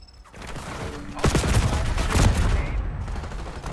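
A deployed turret in a video game opens fire, starting with a faint mechanical whir and then a loud, sustained chatter of rapid gunfire that keeps going to the end.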